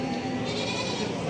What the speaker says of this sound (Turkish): Bunlar da keçiler.